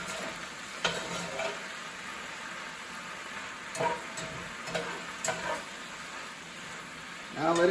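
Garden greens stir-frying in a home kitchen pan for an Asian-style dish, a steady soft sizzle with occasional brief clatters and stirring scrapes, fairly quiet throughout.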